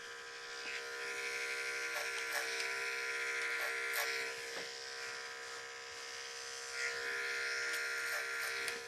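Electric hair clipper running the blade tip across a large, light-colored clipper comb while fading a classic side part, producing a steady close buzz with brief crisp snips and pulses as it moves through hair.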